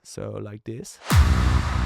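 After a few spoken words, a sudden booming impact hits, layered with a sustained Serum synth bass that keeps ringing low and loud with a long decay to the end.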